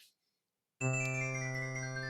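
A phone ringtone cuts in after a brief silence, a sustained bright electronic tone held steadily and fairly loud for over a second, with no talking over it.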